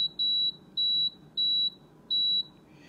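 Power XL cooker on its roast setting beeps while its timer is set: four evenly spaced, high, clear electronic beeps, each about a third of a second long, sounding close and alone.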